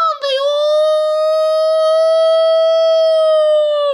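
A single steady siren-like wail with a rich harmonic tone in the horror game Ao Oni, held loud and level for about four seconds before cutting off abruptly.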